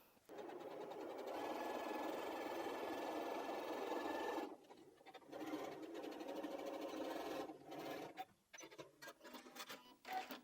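A sewing machine stitches a quilted strippy bag pocket in a steady whirring run, stops, then sews again in shorter bursts near the end, close and loud, with no talk.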